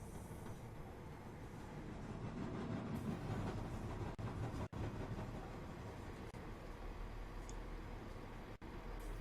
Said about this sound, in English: Also approaching is the 1207 to Weymouth